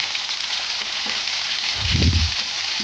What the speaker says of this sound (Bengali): এবার ডিমটা উল্টে দেব